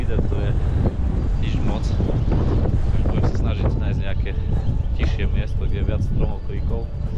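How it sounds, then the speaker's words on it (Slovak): Strong wind buffeting the microphone at an open, exposed fishing spot, a loud continuous roar with rustling through the whole stretch, and a voice talking over it. "lebo dosť tu fúka a dosť otvorený priestor"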